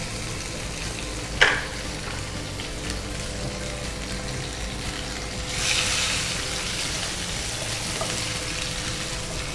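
Spices temper in hot oil for a bhaji. A low, steady sizzle runs throughout, broken by a sharp clink near the start and a brief louder surge of frying partway through.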